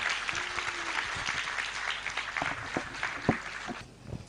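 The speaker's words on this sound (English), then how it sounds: "Everyone, please give a large round of applause for both of them" An audience applauds two guests coming on stage at an event, a lively round of clapping with some sharper individual claps, fading toward the close.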